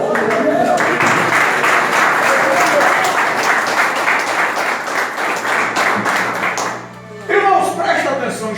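A church congregation applauds in a dense, sustained wash of clapping that holds for several seconds, then fades briefly before a voice speaks over a low hum.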